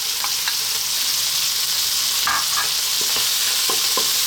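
Beef, mushroom, garlic and onion stir-fry on high heat, a loud, constant sizzle filling the whole stretch, with occasional soft knocks and scrapes of the pan being tossed; nobody speaks.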